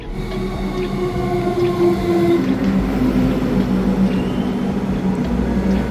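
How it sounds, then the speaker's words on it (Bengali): A train in Melbourne, Australia rumbles into the station loudly, with steady droning tones and a long metallic squeal as it slows, the noise building and lingering. "এই যে ট্রেন চলে আসছে সাপের মতো"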